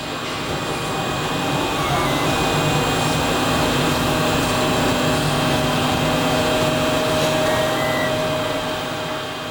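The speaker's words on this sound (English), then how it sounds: "That's the sound of an actual 3D printer spitting out the bright pink plastic sole of a shoe" A 3D printer prints a bright pink plastic shoe sole, droning with a continuous mechanical whir and hum, steady and fairly loud, with no voices.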